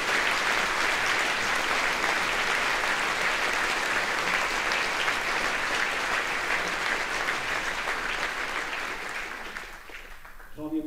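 Audience applause after a speech honouring an achievement, a dense sustained wash of clapping from a large crowd that holds steady at full strength for about ten seconds before thinning and fading out.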